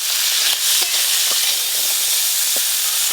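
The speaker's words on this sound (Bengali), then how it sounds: "ওই একই তেলে কাঁকড়াগুলোও ভেজে নেব।" Crabs frying in hot oil, the same oil used earlier for potatoes in a village kitchen, give a steady, loud hissing sizzle throughout, with occasional small pops and crackles and no talking.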